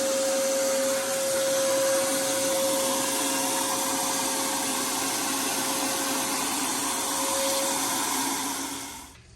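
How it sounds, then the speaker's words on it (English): A vacuum cleaner sucks up rust flakes and loose rivets in one loud, steady drone with a fixed whine, running unbroken before cutting off at the end. "All right, we got it vacuumed up."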